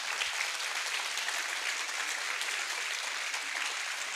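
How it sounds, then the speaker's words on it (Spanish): A church congregation applauds during a Sunday service, dense and steady clapping filling the room for the whole stretch with no talking over it. "denle un aplauso al Señor allí."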